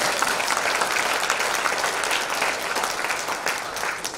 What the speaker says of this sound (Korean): 박수 안 해요?